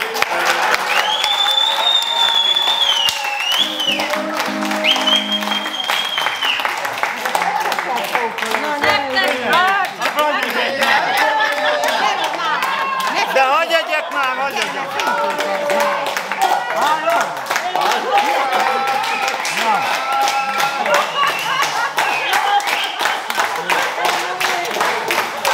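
An audience claps at length after a wedding speech, dense sustained applause with scattered cheers and voices, loud and continuous throughout.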